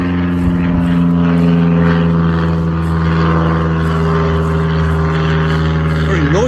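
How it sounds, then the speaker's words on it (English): A loud, steady propeller plane drones close overhead near an airfield in South Leicestershire, its deep rumbling hum sustained throughout and shifting slightly in pitch near the end. "Very noisy aeroplane too."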